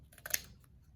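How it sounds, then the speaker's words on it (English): Scissors snipping through robot base material to make it smaller and narrower, a short close burst of two or three crisp cuts within a second, with no talking. "I might have to cut this smaller if I want the battery to go where I put it"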